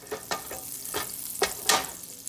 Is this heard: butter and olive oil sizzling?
yes